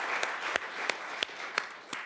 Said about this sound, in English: Can we give some snaps or claps to that?